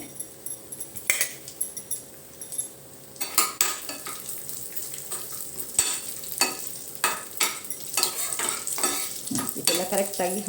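Raisins roast with rava in a pan for jaggery rava ladoos, with repeated scraping stirs and metal spoon clinks against the pan over a light sizzle.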